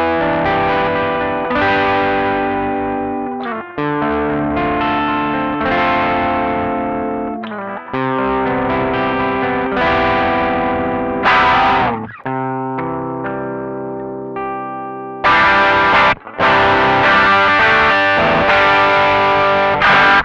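Overdriven Gibson ES-335 on its rear pickup through an Ibanez Nu Tube Screamer pedal powered at 9V, all knobs at noon, recorded direct: dense, compressed distorted chords and riffs played continuously for about twenty seconds, loud and up close.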